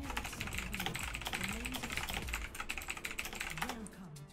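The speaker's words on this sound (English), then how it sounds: "Sorry, I was typing" Rapid, continuous typing on a computer keyboard clatters close by, with a voice murmuring faintly underneath.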